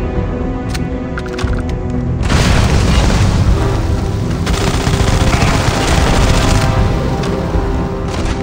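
Rockets explode in Starfield with a heavy, continuous roar of blasts and rumbling booms, very loud and close, after a short stretch of lighter crackling fire at the start.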